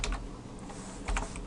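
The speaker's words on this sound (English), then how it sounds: "let me just type it in here" Quick bursts of typing on a computer keyboard, a cluster of close, crisp key clicks at the start and another near the end, with quieter tapping between.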